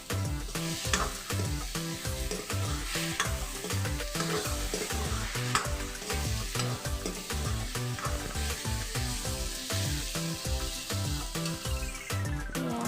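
Ginger, garlic and black pepper sizzle steadily in hot oil while a utensil stirs and scrapes the pan in a quick, regular rhythm, close and fairly loud throughout.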